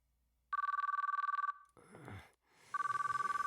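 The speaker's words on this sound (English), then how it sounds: "The phone didn't stop ringing, no matter how long I waited." Telephone ringing in the video game Chaos;Child: a loud electronic ring in rapid pulsing bursts, stopping for a moment of rustling noise, then starting again, close and alone.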